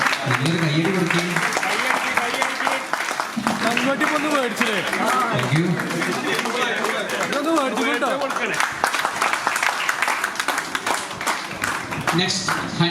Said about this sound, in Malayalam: കയ്യടി കൊടുക്കുകയും